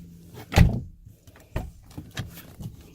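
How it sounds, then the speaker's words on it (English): The door of a 2013 Nissan Altima opens by its interior handle: a sharp latch clack, then several softer clicks and thumps of the door and its plastic trim, close and clear in a quiet space. "Door's opening."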